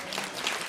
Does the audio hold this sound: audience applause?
yes